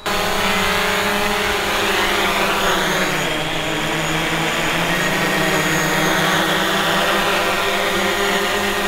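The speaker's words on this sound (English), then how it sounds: "So here comes the drone. It is landing." A DJI Mavic Pro drone comes in close to land, its propellers giving a loud, steady high-pitched whine with a subtle Doppler-like pitch dip midway, continuous for the full stretch without talk.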